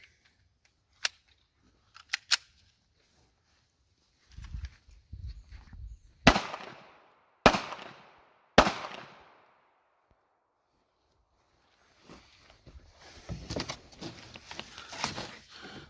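Several sharp, loud 9mm pistol shots with 147-grain rounds fire during a penetration test into boards, three prominent cracks spaced about a second apart, with fainter clicks and handling noise around them.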